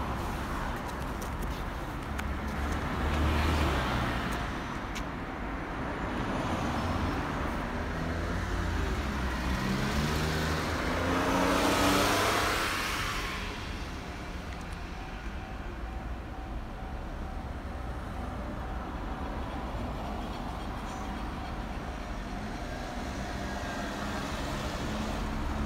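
Several cars roll slowly past on a road, their engine and tyre noise swelling and fading as each passes nearby, over a steady rumble of background traffic.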